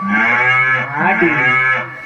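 A bull lets out a long, loud, close moo lasting about two seconds, its deep bellow rising and falling, at a village temple festival bull-taming event.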